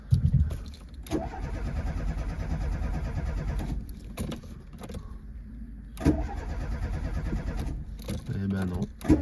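A Renault Super 5 GT Turbo with a fault, freshly fitted electronic ignition module, cranks repeatedly in bursts without catching, its starter churning loudly and nearby with short pauses between attempts.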